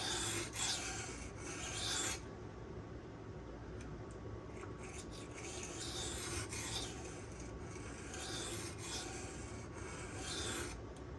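A Spyderco Sage 5 knife with Rex121 steel is drawn along a sharpening stone in repeated rasping strokes, close and even, with brief pauses between passes.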